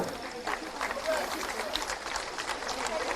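Sustained crowd clapping at a government appointment-letter ceremony, even and continuous, filling the space at moderate level with no clear pauses.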